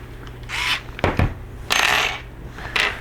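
Number 4 screws being driven into an end cap, heard as short whirring bursts of a power driver spaced a second or so apart, with a sharp metallic clink between them, close and fairly loud.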